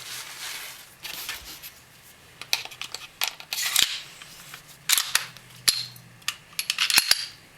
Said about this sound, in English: reassembly is very simple. It all just slides right back in together quite nicely. Get that recoil spring back in.